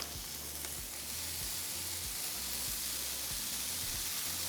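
Cheese melts in a hot pan with a soft, continuous sizzling hiss, fairly quiet and even, with faint low knocks underneath.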